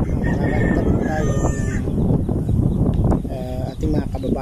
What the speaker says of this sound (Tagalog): So, bukod sa pato, may alaga din siya mga manok.